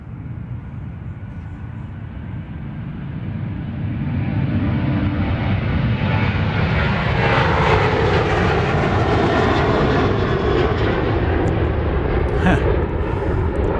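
Southwest Airlines jet on runway 31 right at Dallas Love Field, engines building from a low rumble to a loud, sustained roar as it powers up, heard from a distance outdoors.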